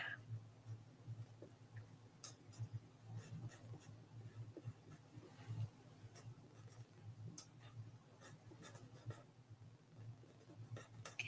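A pen colours in on paper for a purple card, soft scratchy strokes repeating close and faint in a quiet room, with no talk.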